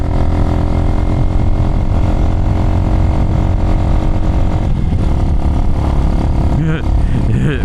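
A Chinese motorcycle engine pulls hard in fifth gear, loud and close with a steady drone that shifts pitch partway through, while a rider talks over it.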